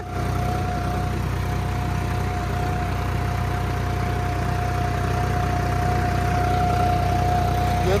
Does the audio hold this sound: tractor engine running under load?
yes